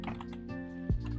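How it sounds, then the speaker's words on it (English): Quick keystrokes on a computer keyboard, a soft run of light clicks and taps played close up under a steady background hum, with one heavier thump near the end. "Man, I am great at typing today."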